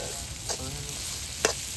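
Fish frying in oil in a pan with a steady soft sizzle, two brief scraping stirs breaking through, no voices.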